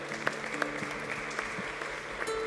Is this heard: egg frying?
no